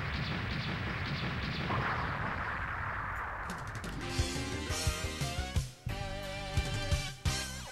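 Explosions from the Saturn version of the game Mega Man X3, with a dense rumbling blast wash fading into a series of sharp, punchy bursts and synthesized effects over game music.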